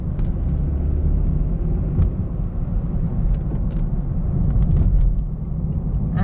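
A 2009 Honda City driving at higher revs gives a steady, subdued engine rumble with road noise inside the cabin, continuous and fairly quiet, with a few faint clicks on top.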